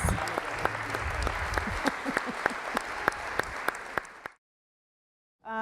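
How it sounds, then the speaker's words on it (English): Audience applause at a Chicago women's mayoral forum, a dense steady wash of many hands clapping with a few sharp louder claps, then cutting off abruptly into silence before talk resumes. "Let's give him one more round of applause"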